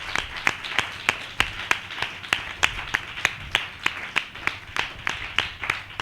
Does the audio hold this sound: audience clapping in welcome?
yes